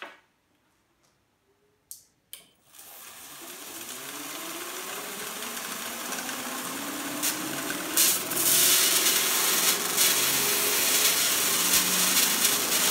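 A static electric generator machine starts up with a couple of sharp clicks, then runs as a steady whirring, rising hiss and hum with occasional crackling bursts, close and continuous with no talk.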